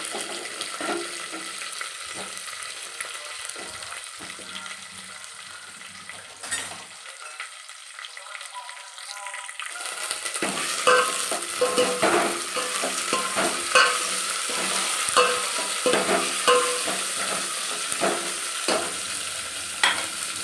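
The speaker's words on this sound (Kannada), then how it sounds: "ಈ ನುಗ್ಗೆಕಾಯಿ ಹಾಕ್ಕೊಳ್ಳಿ ಸ್ವಲ್ಪ ಲೈಟಾಗಿ ಎಣ್ಣೆಯಲ್ಲಿ ಫ್ರೈ ಮಾಡ್ಕೋಬೇಕು" Drumstick pieces fry lightly in oil for sambar, a soft steady sizzle with scraping stir strokes that grows louder and more active partway through, with no voices.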